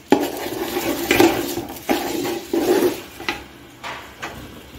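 A pot of rice and onions being stirred, giving repeated scraping and clinking of a utensil against the metal pot in several separate strokes, close and fairly loud, with no talking.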